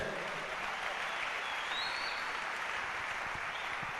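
A church congregation applauds the Lord in continuous, full-bodied clapping that holds steady throughout, a broad wash of many hands together with no words spoken.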